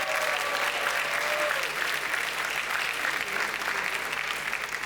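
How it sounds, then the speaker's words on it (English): Sustained applause from an audience at an awards night, a dense even wash of clapping from many hands throughout, without a break or a fade. "Let's give him a big round of applause."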